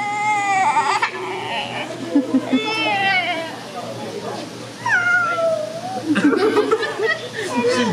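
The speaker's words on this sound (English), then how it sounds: "She's meowing." A cat meows several times in drawn-out, rising and falling cries, close by, with people talking softly between the calls.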